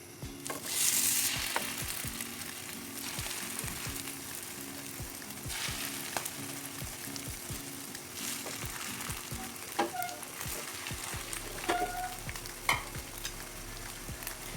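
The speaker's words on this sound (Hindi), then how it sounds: "इसे हम फ्राई कर लेंगे। 4 चमचा ऑयल, ब्रेड डाल लेंगे।" Egg-coated bread slices frying in four spoonfuls of oil in a home kitchen pan, a steady close sizzle that swells as the bread goes in, with scattered clinks and taps of utensils and no talking.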